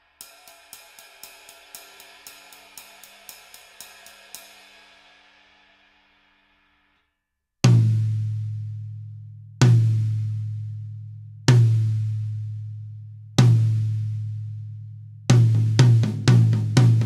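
Drum struck with a Peter Erskine signature stick with a very small tip: first a fast run of light, bright cymbal-like taps fading out, then a pause and several loud, booming low drum hits with long decays, ending in quicker strokes.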